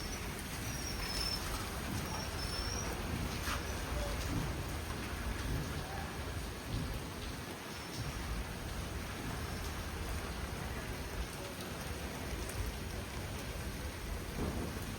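Heavy rain pours down in a dense, unbroken hiss, with a deep low rumble of thunder rolling briefly partway through.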